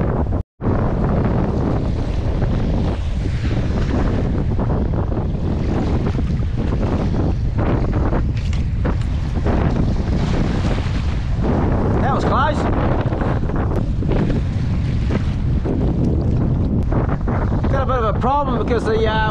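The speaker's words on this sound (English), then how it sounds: "the wind and the waves are going in a slightly different direction" Strong wind buffets the microphone while waves slosh and splash around a sea kayak out fishing at sea, a loud continuous roar with rhythmic water surges and brief bumps.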